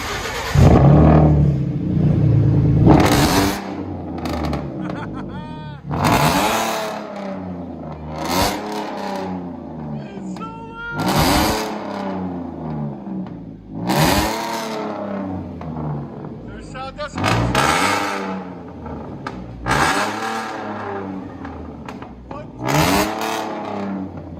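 A 2011 Ford F-150 V6 with straight-pipe true dual exhaust is blipped through a series of loud, raspy revs, roughly eight sharp surges with short drops between them, close to the mic, with people talking over it.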